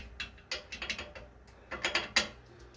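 Bolts being fitted during installation of a Taco circulator pump, with a series of sharp metallic clicks and ratcheting taps in irregular bursts, close and fairly quiet.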